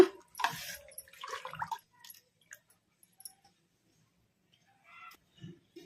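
Raw tamarind rasam is stirred and splashed in a bowl, a few wet sloshes up close, then quiet with occasional faint drips and clinks.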